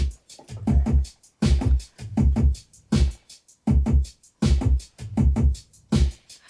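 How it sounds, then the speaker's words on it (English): A steady programmed drum pattern repeats in even bars, punchy kicks and snappy hits with crisp cymbal ticks, loud and dry with no voices. "Here's just the program drums."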